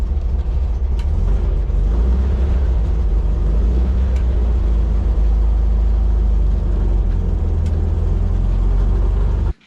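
A 1974 Volkswagen Thing pulls away, its air-cooled engine droning loud and steady with road rumble throughout, no voices, before cutting off abruptly at the end.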